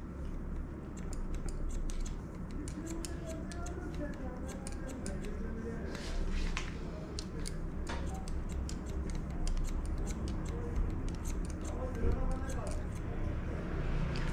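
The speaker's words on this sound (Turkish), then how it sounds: "Bak ince telli saçları olduğu için makası çok fazla açmıyorum." Small, rapid scissor snips cut fine, thin hair during a layered haircut, crisp clicks repeating close up in quick bursts over a soft background hum, with someone talking at times.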